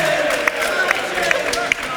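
Studio audience cheering and whooping in a loud crowd burst during a football podcast vote, with sharp claps and shouts throughout.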